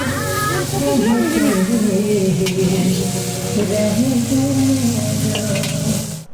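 Cauliflower florets fry in a pan for cooking at a function, steady sizzle with stirring under continuous talk from a nearby voice.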